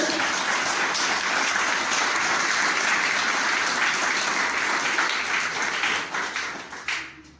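A church congregation applauding, thick continuous clapping that holds steady for several seconds, then thins out and fades toward the end.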